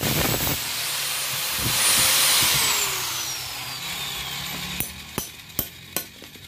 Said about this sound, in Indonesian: kita tinggal gerinda sisi samping-samping bot 14 ini agar masuk ke bos pen piston ini